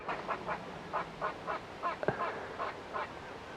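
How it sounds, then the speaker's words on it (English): A squirrel calls outdoors with a steady series of short, honking, nasal chirps repeated roughly twice a second, moderately distant and fairly faint over background noise, with one sharper knock partway through. "It's actually a squirrel."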